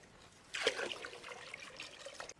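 Water from a jug splashes and trickles into milk at home, a short, close pouring gurgle starting abruptly and running for about two seconds, fairly quiet.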